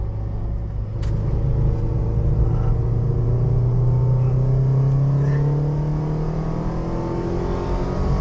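Alfa Romeo 4C race cars on the Spa circuit: a loud, close engine drone that climbs steadily in pitch as a car accelerates, over a continuous rumble of track traffic.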